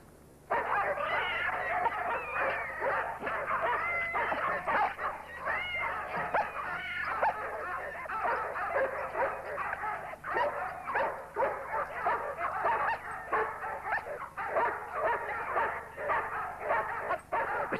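A frantic dog in a French TV drama scene barks, yips and whimpers almost without pause for about eighteen seconds, its cries fairly close and mixed with wailing moans under a busy background.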